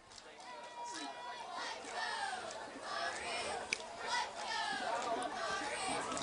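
Crowd chatter fills the stands at a high school football rivalry game between Estill County and Powell County, a dense, distant wash of many overlapping voices with occasional shouts, steady and moderately loud throughout.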